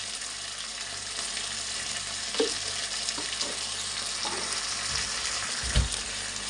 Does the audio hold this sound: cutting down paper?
no